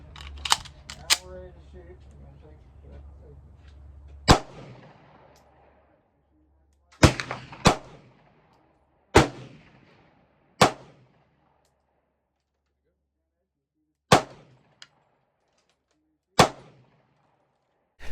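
P08 Luger pistol fired outdoors, sharp loud cracks in an uneven series with pauses of a second or more between shots, some in quick pairs; a voice murmurs faintly early on.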